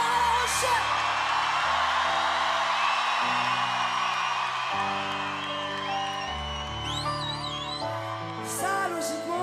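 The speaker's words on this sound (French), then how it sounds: "J'ai besoin des cris de mon public ce soir à La Rochelle." The audience at a concert in La Rochelle shouts, whoops and cheers loudly and continuously, a dense crowd roar with music sustaining underneath.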